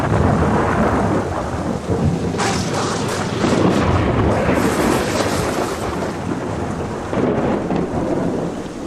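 Heavy rain pours steadily at sea while deep thunder rolls and rumbles through it, a loud, dense storm that swells in repeated booms with no voices.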